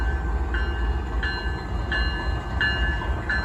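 A train rolls past a level crossing with a steady rumble, and a bell or signal chimes at a regular beat about every 0.7 seconds, moderately close with no talk.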